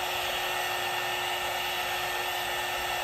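A heat gun blows over pigment on paper with a steady, loud, close whine and rushing air, unbroken throughout.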